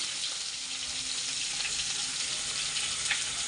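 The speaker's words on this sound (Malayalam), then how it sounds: "ഞാൻ എന്തിനായാലും ആദ്യമേ ഇഞ്ചി അങ്ങിട്ട് മൂപ്പിക്കുന്നത്" Ginger frying in oil at the start of a fish curry base, an even, bright crackling sizzle heard up close and unbroken, with no voices.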